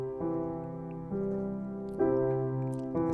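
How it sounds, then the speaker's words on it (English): Piano plays a gentle left-hand arpeggio pattern for Silent Night, with soft sustained notes changing on each chord, quiet and unaccompanied. "It's nice left hand arpeggio pattern."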